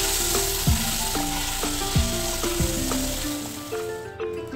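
Salted, turmeric-coated eggs sizzle in hot oil in a frying pan, a constant close crackle with a few sharp knocks and stirring scrapes, no talking.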